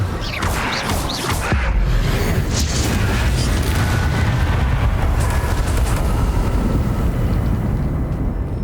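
Confringo fire-spell blasts in Hogwarts Legacy on Nintendo Switch: a loud explosive boom followed by a thick, sustained rumble of debris and fire that fills the rest of the stretch.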